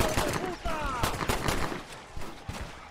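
Video game gunfire aimed at powder cakes: a rapid string of sharp shots with whooshing, whistling effects, loud and close, with voices talking over it.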